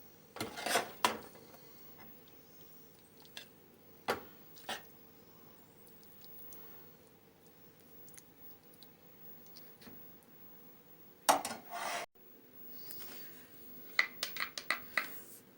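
Broccoli stir-fry is served onto a serving plate with utensils, bringing scattered clinks and scrapes of metal on dishware, some clustered in short bursts, in an otherwise quiet kitchen.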